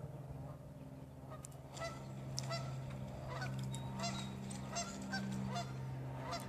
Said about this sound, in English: That goose might be in trouble.